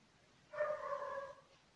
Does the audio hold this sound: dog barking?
yes